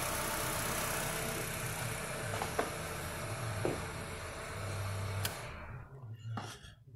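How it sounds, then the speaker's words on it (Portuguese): A 2008 Honda Civic engine idles steadily, loud and close, with a few clicks, then is switched off and fades to near silence, leaving faint ticking afterward. "Deixa eu desligar o motor."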